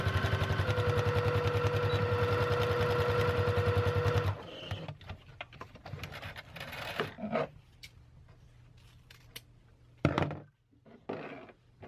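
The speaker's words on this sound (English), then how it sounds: "you want to make sure you backstitch." Sewing machine backstitching ribbon trim onto a tutu, a close, rapid mechanical whirring run for about four seconds, followed by quieter handling clicks, rustles and a thump of fabric being moved.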